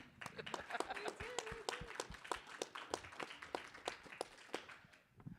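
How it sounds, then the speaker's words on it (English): Sparse, scattered clapping from a small audience at a live-streamed event: individual distinct hand claps at an uneven rhythm, fairly faint and distant, with no voices. "Please clap."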